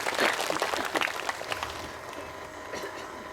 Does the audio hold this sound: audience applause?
yes